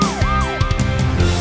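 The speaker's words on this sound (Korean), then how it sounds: "빨간 소방차가 출동합니다." Fire truck siren in a children's song, a rising and falling wail repeating over the music's steady backing, loud and close.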